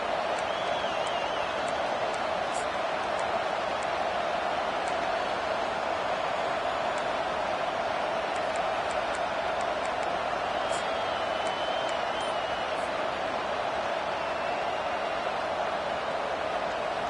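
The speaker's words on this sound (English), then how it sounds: "The crowd getting behind this defense as they try to get a stop in the red zone." A stadium crowd in a football video game roars steadily throughout as the defense tries to make a stop in the red zone, a dense, continuous wash of cheering with no breaks.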